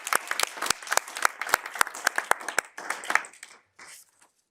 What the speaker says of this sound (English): a bit of applause for you